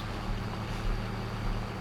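A small video-game tractor straining under a heavy load gives off a steady low engine rumble and broad noise, continuous and fairly loud with no pauses.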